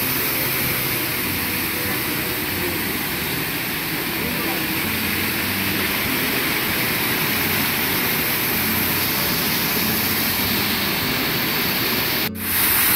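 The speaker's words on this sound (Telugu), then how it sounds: "One more waterfall." A waterfall about 28 meters high at Plitvice Lakes in Croatia, a loud, continuous broadband roar of falling water that holds steady and close throughout, with a voice speaking over it.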